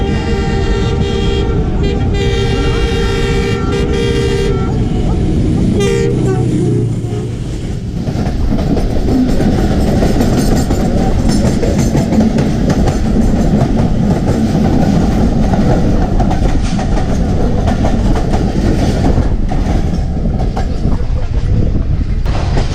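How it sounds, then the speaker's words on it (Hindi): A train on the ML1 line near Shahdara, Pakistan, sounds a long loud horn, then roars past close by with a continuous heavy rumble and clatter for the rest of the stretch. "आगे से एक और ट्रेन भी आ रही है, वो भी कैप्चर करके हम आपको दिखाते हैं।"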